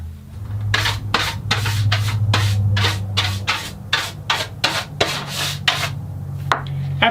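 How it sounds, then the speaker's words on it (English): A 3D printed sanding block rubbed back and forth over wooden acoustic guitar braces to round their tops, about a dozen steady rasping strokes in a regular rhythm, close and clear over a low hum. "another 3D printed sanding block"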